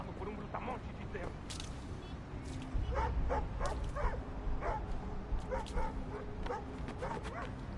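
A dog barks and yips repeatedly in short bursts, some whimpering between them, moderately near, with people talking underneath throughout.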